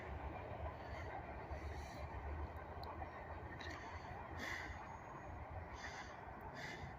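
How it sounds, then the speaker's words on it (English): A train rolls past on railroad tracks near East Binghamton, New York, a steady distant rumble with faint wheel clatter and squeals throughout, quiet overall. "That might be the last train I get for the year."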